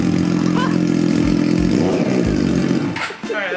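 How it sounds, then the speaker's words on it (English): A Triumph Daytona 675R motorcycle engine running with an open header, loud and close, with a throaty idle that swells in a couple of quick revs before settling, briefly and unmuffled. "we're gonna start it open header very briefly"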